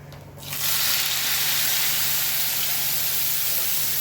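A paste of ginger, onion, garlic, green chilli and tomato hits hot oil for prawn biryani, giving a steady, loud sizzle and hiss that swells within the first half second and holds evenly, with no talking.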